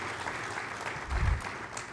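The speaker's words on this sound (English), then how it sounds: "one more round of applause" Audience applause fills a conference hall after a fireside chat panel, a steady wash of clapping from many hands that swells briefly near the end, with no speech over it.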